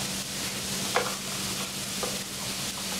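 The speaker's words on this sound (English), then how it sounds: "we want a quick saute on that" Food sautés in a hot pan while making pasta sauce with prosciutto and mushrooms, giving a dense steady sizzle with a low hum underneath and a few scraping stirs, close and without talking.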